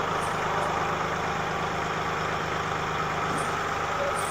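A tractor engine runs steadily nearby, a constant rumbling idle with no change in pitch or rhythm, alone without voices.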